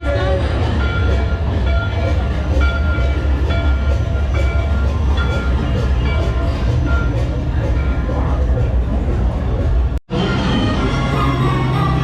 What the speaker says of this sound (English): Want to take a ride on the train?